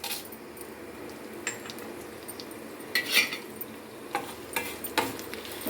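Tempering seeds (urad dal, mustard seeds, chana dal and dried red chillies) fry in hot oil for a raw mango chutney, a soft sizzle broken by scattered clinks and scrapes of a stirring spoon against the pan.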